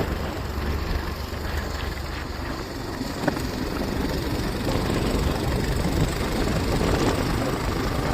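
Motorbike ride on mountain roads in the Malkangiri and Koraput hills: a steady, close engine drone blended with constant wind rush runs unbroken for the whole stretch, with no talk.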